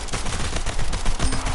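A pistol is fired rapidly in the arena shooter Splitgate, sounding as a dense, loud string of quick shots throughout the short moment, with no talk.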